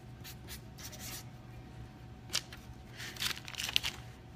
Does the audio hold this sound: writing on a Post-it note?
yes